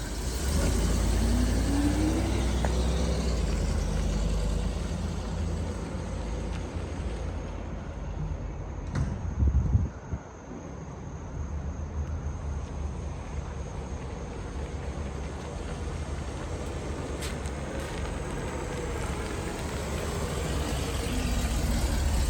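A vintage Bentley S3 rolls around a yard, its engine a steady low rumble throughout with a brief louder thump midway, heard alone without talk.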